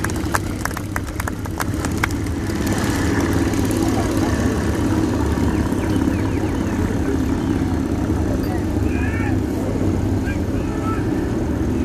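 Motorcycles of the Royal Signals White Helmets display team ride past at a steam fair, a steady mid-pitched engine drone that swells and fades slightly, heard at moderate distance in an outdoor arena.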